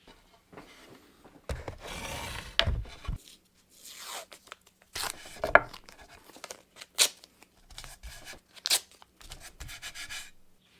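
Masking tape is ripped off a roll and handled while marking switch placement inside a Subaru Crosstrek, giving several short, quiet tearing and crinkling bursts separated by brief pauses.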